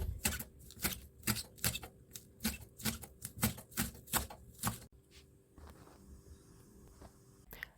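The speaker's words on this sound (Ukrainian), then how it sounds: "Мілко подрібнюю зелену молоду цибулю." Rapid, regular knife chops finely cutting young green onion on a cutting board, about a dozen crisp taps in quick rhythm, then a quieter stretch of softer scraping.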